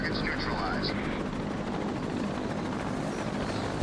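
Helicopter in the video game Batman: Arkham City, a steady loud rotor and engine drone filling the whole clip, with short high game tones near the start and a voice talking over it.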